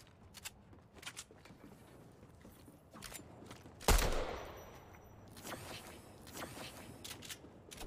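Pistol fire in the Fortnite video game: several quick bursts of shots scattered through, with one loud close blast near the middle, over a busy background of game noise.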